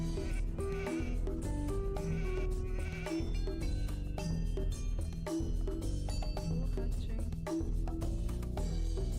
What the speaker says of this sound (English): Oh, I found a sheep.